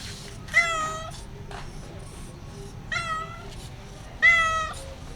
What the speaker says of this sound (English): It's a very curious cat.